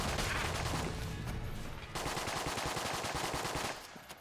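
Rapid automatic gunfire from the Enter the Gungeon video game, a dense continuous rattle of shots that briefly breaks near the middle and then resumes, loud and up close with no talking over it.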